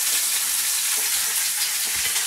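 Salmon fillets fry in a pan with a continuous, bright sizzle, close and steady throughout, with no voices over it.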